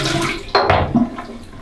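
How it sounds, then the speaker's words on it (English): Water pours out of a shaving bowl in a short splashing burst, followed by a few smaller trickles and drips, close and clear with no talking. "Alright, so I'm going to pour this out."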